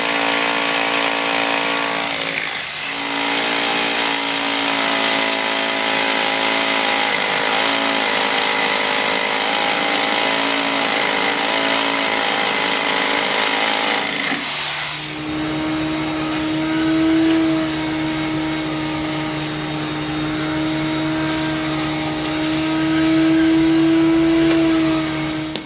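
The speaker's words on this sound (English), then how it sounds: "This hoist is just fighting me going up" A car hoist being raised in a garage: a loud, steady motor whine with a strained hum that runs continuously, shifting pitch partway through as the lift climbs under load.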